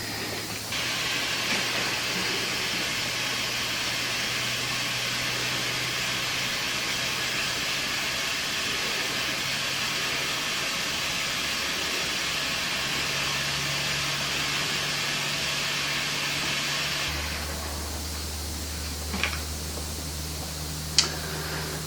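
Heat gun blowing hot air onto heat-shrink tubing over wires in a 12-volt system, a steady loud rushing hiss that runs unbroken, then cuts out near the end, leaving a quieter room with a couple of small knocks.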